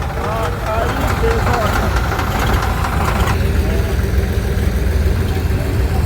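A 2014-model tractor engine runs at a tractor market, a steady loud mid-to-low rumble throughout, with voices talking over it.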